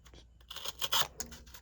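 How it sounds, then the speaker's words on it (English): A small Kizer Vanguard Lieb folding knife slicing through cardboard, giving a run of close, crisp scraping and tearing strokes that rise to a louder rasp near the middle, with no talking. "do a little cutting with it here. And this is, cardboard"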